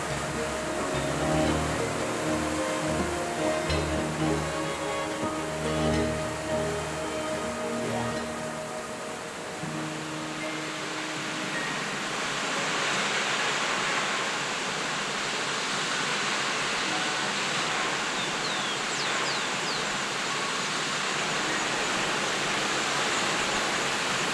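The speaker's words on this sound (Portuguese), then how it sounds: "No salto 2, a água cai 120 metros." Constant roar of a large waterfall dropping 120 metres in Chapada dos Veadeiros National Park, Brazil, a dense rushing wash of falling water that continues unbroken from start to finish.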